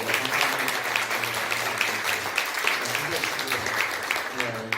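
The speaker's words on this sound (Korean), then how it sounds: "우리 또 환영의 박수 한번 보내드리도록 하겠습니다" Church congregation in Hanoi clapping in welcome for a returning member and his daughter, a steady wash of applause lasting several seconds, with a voice talking faintly underneath.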